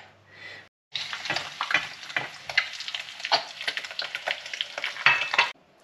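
Eggs fry in a pan with a bright, crackling sizzle that starts abruptly after a short quiet pause and pops and spatters steadily at close range.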